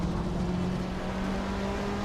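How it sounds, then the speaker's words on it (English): A 2007 BMW 320i racing in a racing video game, its engine a steady close drone with a constant hum and no pauses. "Aisley is driving a 2007 BMW 320i"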